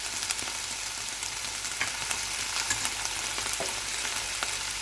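Chicken manchurian sizzles steadily in a hot pan with soy sauce, chili garlic sauce, vinegar and oyster sauce, with a constant close frying hiss broken by light scraping and clinks of stirring.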